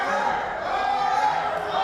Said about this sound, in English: The crowd chanting harder, harder.